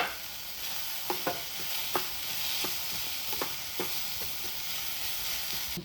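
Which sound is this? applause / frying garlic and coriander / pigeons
frying garlic and coriander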